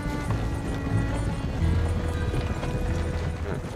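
Horse hooves clip-clopping at a steady run in the Red Dead Redemption 2 video game, a continuous rhythmic drumming over a dense rumbling game soundscape.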